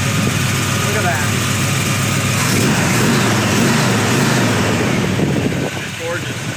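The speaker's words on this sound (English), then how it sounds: "Great sounding dual exhaust" A 1969 Chevelle with dual exhaust runs steadily, a loud, continuous engine rumble throughout with a slight rise midway, while someone talks over it.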